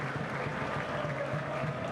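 At a schools rugby match between St Edward's, Oxford and Magdalen College at Iffley Road, spectators give the teams steady, even applause as they leave the field.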